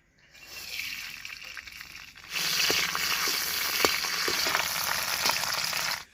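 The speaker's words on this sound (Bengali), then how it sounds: "এই কাঁচা বাদামটা একটু সামান্য তেলে ভেজে নেব" Soaked raw peanuts drop into a little hot oil, and a soft hiss jumps to a loud, steady close sizzle, with occasional stirring clicks throughout.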